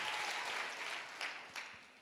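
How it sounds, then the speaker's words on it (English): Applause from a conference audience after a talk, a fairly quiet wash of clapping that thins out toward the end with a few last claps. "I'm not really here for the applause."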